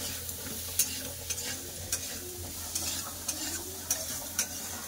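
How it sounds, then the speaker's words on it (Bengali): Radish pieces stir-frying with turmeric and salt in a pan: a soft, steady sizzle with a spatula scraping in a regular rhythm, roughly twice a second, close by and without speech. "লবণ হলুদ দিয়ে ভালো করে মূলাটাকে ভেজে নেব।"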